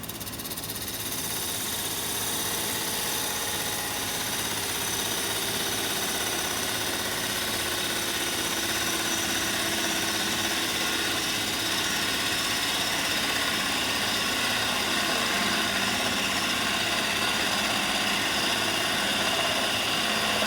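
A steady, continuous wood lathe hum with a broad hiss of cutting across the whole clip, loud and unbroken, as a bowl gouge scrapes wood on a turning vase blank.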